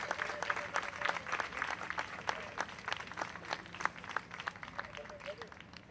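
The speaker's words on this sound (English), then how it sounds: "Okay, big applause." Applause from an audience at an evening reception, welcoming standing students from around the world, with many hands clapping in a fairly quiet, crisp patter, some heard close, and a few voices in the room underneath.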